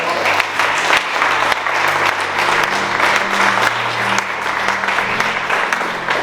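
Wedding guests at a Congolese wedding ceremony break into loud, steady applause, a thick wash of many hands clapping together close by that holds throughout.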